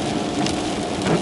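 Steady rain falls with a dense, even hiss throughout, while someone talks over it.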